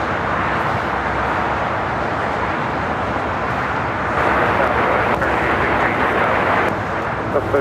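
A Cargolux cargo jet taxis at LAX, a loud continuous engine roar and rumble that swells slightly midway, with faint traffic-like background noise.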